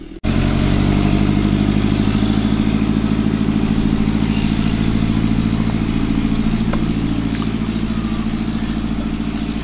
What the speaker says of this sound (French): Alors le tracteur, il va passer